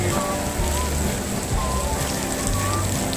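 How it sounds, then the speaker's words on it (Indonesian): Heavy rain pours down at a MotoGP circuit, a loud, steady, dense hiss of drops on surfaces that fills the whole moment without a break. "ini di zona B, hujan deras."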